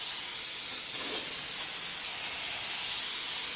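Cooking spray hisses from a can onto a bundt cake pan, a continuous close airy spray lasting several seconds at a fairly even level, with no one speaking.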